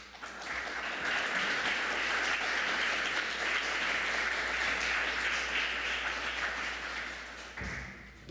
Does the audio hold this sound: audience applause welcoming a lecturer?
yes